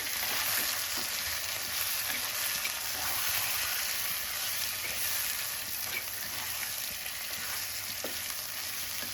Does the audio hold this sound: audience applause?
no